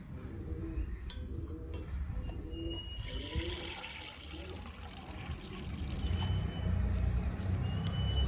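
Water being poured out in measured amounts for pigeon deworming medicine, a steady splashing stream running for several seconds and growing fuller toward the end, with a voice talking faintly in the background.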